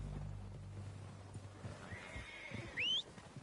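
Horses arrive in the video game Red Dead Redemption 2, hooves clip-clopping at a moderate distance before one horse lets out a clear rising whinny near the end.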